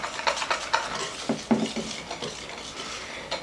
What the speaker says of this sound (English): You're going to whisk that together.